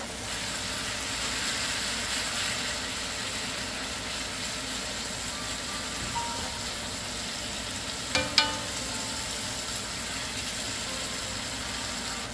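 Aromatics sauté in a pan for pinangat na bangus with tomato and kamias, giving a constant close sizzle, broken near the end by a couple of sharp utensil clinks.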